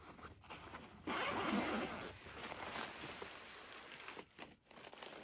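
A pocket zipper on an Amazon AWS onboarding package is pulled open in one long close zip, with fainter crinkling and scratching of the bag around it.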